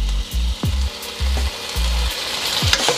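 Chicken pieces for chow mein fry in hot oil, a steady close sizzle broken by several low scraping thuds as the pieces are turned in the pan.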